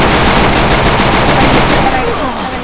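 Rapid automatic gunfire from a Free Fire match, a loud sustained burst of shots that thins out near the end, with a voice talking over it.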